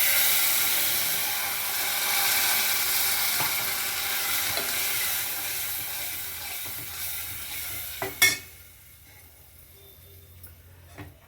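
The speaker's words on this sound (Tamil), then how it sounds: "வெங்காயம் எல்லாம் வதங்கிடுச்சு. இப்போ நம்ம இந்த குழம்ப சேர்த்துக்கலாம்." Ground gravy masala goes into sautéed onions in a pan, which sizzle loudly and steadily up close before the frying hiss drops sharply after a clatter, leaving a faint simmer.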